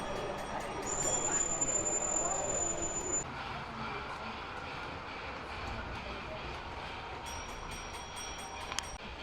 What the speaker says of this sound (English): Very nice size layout here in G-gauge. Just letting the two locos make their way round.